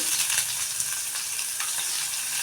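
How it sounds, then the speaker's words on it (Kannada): Mustard seeds, chopped onion and curry leaves fry in hot oil, giving a steady, close, crackling sizzle that carries on without a break and with no talk. "ಕರಿಬೇವು ಸೊಪ್ಪು, ಹಾಕಿಬಿಟ್ಟು ಸ್ವಲ್ಪ ಫ್ರೈ ಮಾಡೋಣ"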